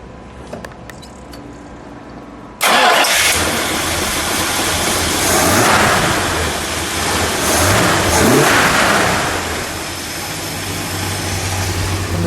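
A 1969 Plymouth Sport Satellite convertible with a 383 V8 catches and roars to life, then settles into a loud, rumbling idle with swelling revs, close and alone without talk.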